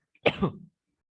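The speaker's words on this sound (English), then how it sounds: "I have severe cough" A single harsh cough during a maths lecture, short and loud, close to the microphone, followed by silence.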